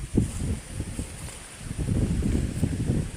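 Strong wind from Super Typhoon Uwan in the Philippines buffets and roars in low rumbling gusts, rising and falling steadily throughout, with no voices.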